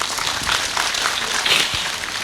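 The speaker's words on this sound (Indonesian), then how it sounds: "tepuk tangan kagem Mbah Kung." Audience applause for Mbah Kung at an evening Eid al-Adha takbir gathering, a dense, steady wash of many hands clapping continuously at moderate level, with no voices over it.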